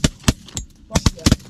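Shotgun shots fired with bismuth pellets at ducks and geese on an Alberta hunt, heard as a rapid volley of about seven loud, sharp blasts in quick succession, some nearly overlapping.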